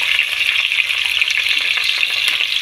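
Onions frying in hot oil for a Sunday special biryani, a steady dense sizzle with soft stirring scrapes running throughout, close and fairly loud.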